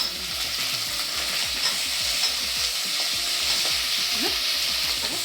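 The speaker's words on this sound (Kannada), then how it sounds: "ಬದನೆಕಾಯಿ ತೊಗೊಂಡಿದ್ದೆ ಅಲ್ವಾ, ಇದನ್ನು ಎಣ್ಣೆನೆಲ್ಲ ಫ್ರೈ ಮಾಡ್ಕೊಳ್ಳಿ" Brinjal frying in oil with curry leaves and a Byadgi chilli: a constant close sizzle broken by quick, regular scraping strokes of a spatula stirring the pan.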